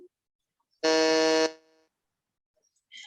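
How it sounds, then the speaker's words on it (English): Conference timer buzzer signalling that a speaker's time is up: one loud, harsh, steady buzz lasting under a second, then brief quiet and a faint short sound. "It is a buzzer"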